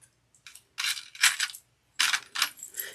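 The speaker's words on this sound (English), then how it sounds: "I'm going to grab 2 of my zipper pulls" Metal zipper pulls clink and jingle as they are picked up, several close, bright rattling bursts separated by brief pauses, with no talking.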